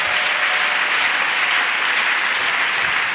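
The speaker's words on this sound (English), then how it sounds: "Clap for the Lord Jesus Christ." A church congregation claps for Jesus Christ during a French and English spiritual warfare service, dense continuous applause at even loudness throughout with no talking.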